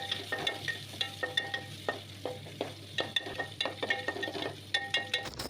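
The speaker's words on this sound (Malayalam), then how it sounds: "അതിലേക്ക് നമ്മൾ സവാള അരിഞ്ഞത് ഇട്ടിട്ട് നന്നായി ഒന്ന് വഴറ്റുക." Chopped onion sizzles in hot oil with mustard seeds and curry leaves, a steady crackling fry punctuated by repeated scrapes and clinks of a spoon stirring against the pan, close and moderately quiet.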